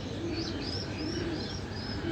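Pigeons cooing in a loft or rooftop enclosure, soft low repeated coos mixed with light chirps, steady and fairly close, with no voices present.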